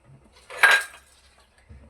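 A lid is set onto a pot of aloo chicken dal cutlet mixture in a home kitchen, giving one brief, close metallic clank and rattle, with a faint soft knock just after.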